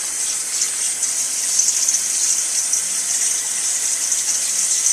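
Warm tap water runs steadily over mozzarella being rinsed, a constant hissing gush with no talking.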